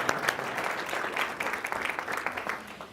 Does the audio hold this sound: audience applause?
yes